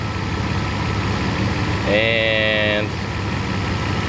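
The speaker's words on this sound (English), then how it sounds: "engine running, so there are differences here" Mercedes 600SEL V12 engine idling steadily with a low continuous hum, a short tonal beep briefly rising over it midway while a person speaks.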